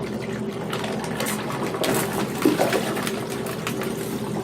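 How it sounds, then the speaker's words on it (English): Water drains steadily from a hydration bladder punctured in the back with a knife and emptying into a tub, a continuous soft trickling wash over a low background hum, with no talking. "start draining your water"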